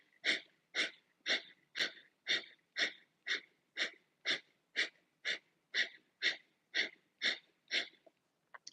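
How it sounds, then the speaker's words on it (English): Rapid rhythmic breath of fire during a live sadhana yoga practice, about sixteen sharp, evenly spaced forceful nasal exhalations, close and steady, with no talking. "take a deep inhale to prepare for breath of fire"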